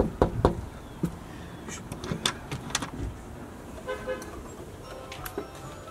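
Knocking on a door at a Cleveland property, a few quick knocks heard among other thumps and faint background voices.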